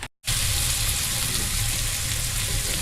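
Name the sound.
bacon frying in a pan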